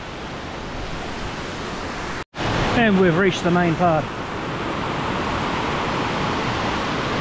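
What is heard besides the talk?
waterfall at Love Creek Falls, Brisbane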